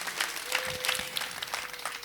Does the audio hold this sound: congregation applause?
yes